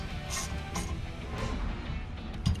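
Metallic clicking and ratcheting of bolts being tightened back down on a Pit Bull motorcycle stand holding a new Ducati Monster, a steady run of close mechanical clicks with a slightly louder knock near the end.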